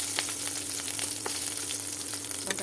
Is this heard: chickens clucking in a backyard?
no